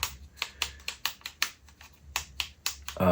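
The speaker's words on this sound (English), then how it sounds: "So you hear a little clicking sound, and it unwinds as I'm clicking it." A UGears wooden triceratops model's winding mechanism clicks sharply, about a dozen dry, crisp ticks in an uneven rhythm, close and alone in a quiet room.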